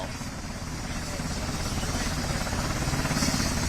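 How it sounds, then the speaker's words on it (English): A helicopter lands nearby, its steady rotor thrum and engine whine loud and continuous, with a faint rhythmic chop rising slightly toward the end. "We have another helicopter that just landed here."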